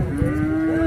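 A Holstein Friesian cow at a cattle market in Baramati gives one close, loud, sustained low moo that fills the whole moment.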